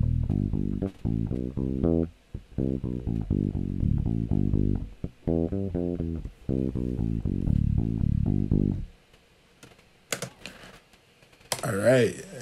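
A recorded bass guitar line plays back in Logic Pro X, with bursts of deep plucked notes in a steady rhythm for about nine seconds, then brief clicks and a short spoken voice at the end.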